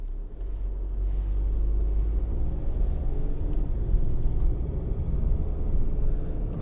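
A 2015 Volkswagen Transporter Shuttle van driving, with a steady low engine and road rumble filling the cabin throughout, no speech.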